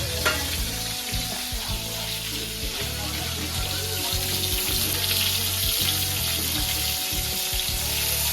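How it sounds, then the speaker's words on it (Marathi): Eggplant stirred while it fries in oil with masala, a loud continuous sizzle and crackle with repeated scraping and stirring strokes, close and steady. "वांगे हलवून घ्यायचे आहेत आपण तेलामध्ये पाच मिनटं आपण हलवून घ्यायचे वांगे"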